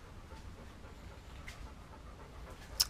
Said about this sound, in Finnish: Mun koira tuli tuohon hengittämään, sen takia kuuluu tuollainen ääni